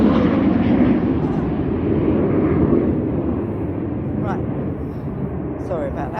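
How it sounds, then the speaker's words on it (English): A plane passes overhead above a garden with a polytunnel, a steady broad roar holding loud through the whole stretch, with a few faint bird chirps near the end. "Oh, it was a plane."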